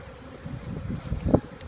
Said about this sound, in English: Plenty of bees on the ground.